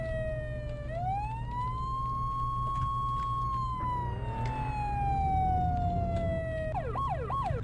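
A police-style emergency siren from the Flashing Lights game wails in long, loud sweeping rises and falls, then switches to a faster yelping pattern near the end, over a steady low engine rumble.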